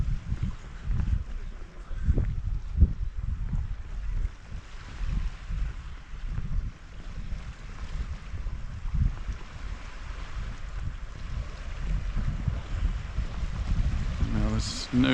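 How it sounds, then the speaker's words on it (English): Gentle waves lap and wash against rocks in a steady, soft wash at Camp de Mar beach, with wind buffeting the microphone throughout. "you can hear the little waves just washing up against the rocks. Quite a soothing sound."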